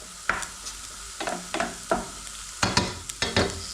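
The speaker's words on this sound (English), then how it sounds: "Let's give the tamarind paste over here a bit of a stir." Tamarind paste being stirred in a pan while fish fries nearby, giving a series of distinct scraping strokes with a soft sizzle underneath, spaced irregularly and fairly close.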